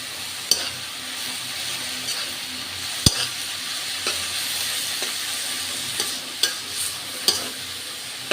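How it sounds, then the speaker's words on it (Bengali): Cabbage frying and being stirred in a wok, a steady loud sizzle broken by repeated sharp scraping and clanking of the spatula against the pan. "আমার বাঁধাকপি ভাজাটা হয়ে গেছে, এখন আমি নামিয়ে নিব।"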